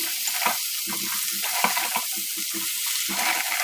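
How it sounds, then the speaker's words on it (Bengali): Malabar spinach and potato frying in a pan, a dense and close hiss of oil broken by repeated stirring scrapes and bumps, steady throughout, with no talking. "এখন আমি দিয়ে দিব আগে থেকে ধুয়ে রাখা পুঁই শাক ও কিছুটা আলু"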